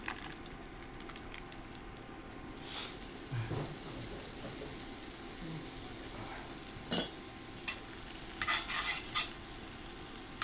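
Pork steaks sizzle steadily in a hot iron skillet on an induction burner, with occasional stirring scrapes and clinks breaking through the constant crackle.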